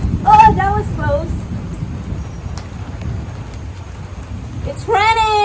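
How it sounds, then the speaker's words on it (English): Rain falls steadily during a thunderstorm, a soft continuous patter with a low rumble underneath, while people talk and exclaim briefly at the start and end. "It's raining, man."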